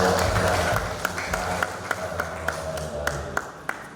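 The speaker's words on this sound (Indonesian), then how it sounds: "beri tepuk tangannya" Audience applause at a farewell-and-welcome ceremony for the head of a Class IIB prison in Gunung Sugih, Lampung, a steady wash of clapping with a few sharper taps standing out, fairly close and moderately loud.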